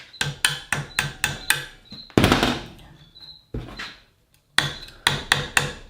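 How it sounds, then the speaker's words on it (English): Sharp metallic hammer taps in steady rhythmic runs, wedging a part into a jaw harp being built, interrupted by a louder scraping, grinding stretch, close and without speech. "Tapping it in with the hammer."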